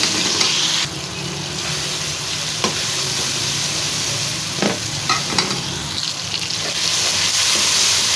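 Tomatoes and tomato puree fry in a pan for a mash dal, giving a steady, close sizzle throughout with occasional stirring scrapes and clinks, and no voices.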